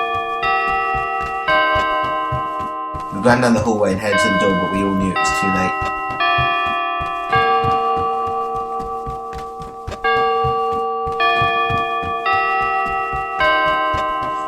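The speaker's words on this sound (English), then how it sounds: "The clock tower bell started chiming." Clock tower bell chiming in slow, steady repeated strokes with long ringing sustain, loud and close, with a ticking pulse underneath and someone narrating over it for much of the time.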